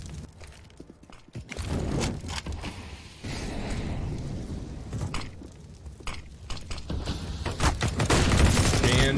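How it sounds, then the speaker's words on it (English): Bursts of automatic rifle fire rattle through a Counter-Strike match on the Vertigo map, dense rapid volleys running almost continuously with short gaps, close and loud. "It's basically a mini AWP with automatic fire."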